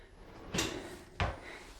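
A custom-built wooden drawer in a walk-in closet slides and knocks shut twice, about two-thirds of a second apart, each a soft close thump over a quiet room.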